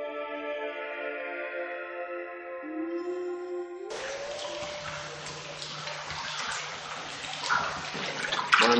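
An underground river flowing through the Gouffre de Padirac cave more than 100 metres below the Causse de Gramat: steady rushing water echoing in a rock gallery, emerging after a sustained musical passage and growing louder toward the end.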